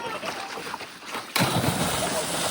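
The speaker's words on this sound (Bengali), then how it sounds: "একটা জাম্প হলো, এবার আর একটা জাম্প হবে।" A person jumps into a village river during a group bath, landing with a sudden loud splash followed by churning water, close by and outdoors.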